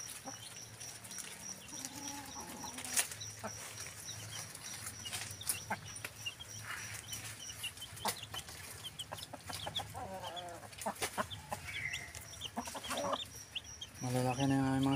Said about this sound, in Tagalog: Malalaki na yung mga sisiyo, guys.